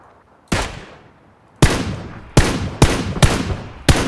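Single gunshots in PUBG Battlegrounds ring out alone, a first shot then a pause and a quicker run of five loud cracks, each with a decaying echo tail.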